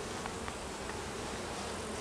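Dense, continuous buzzing of honey bees from a beekeeping nuc starter package, a close, even drone with no pauses and no voices.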